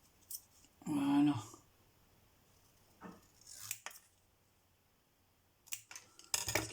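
Scissors cutting paper for a craft happy mail project: a few brief close snips and rustles separated by pauses, with a burst of handling at the end.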